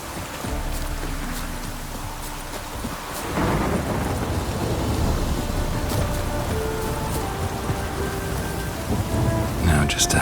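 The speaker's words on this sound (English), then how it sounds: "Rain doesn't bother you, it seems." Steady rain drums on surfaces in The Witcher 3: Wild Hunt, with rolling thunder underneath. The downpour grows heavier partway through and holds as a dense, close wash of sound.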